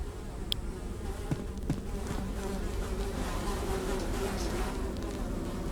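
Flies buzzing in a dark fantasy video game scene near a putrid pit: continuous insect drone with a few sharper clicks and ticks, steady and moderately loud, no speech.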